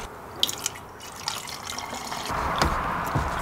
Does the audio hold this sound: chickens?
no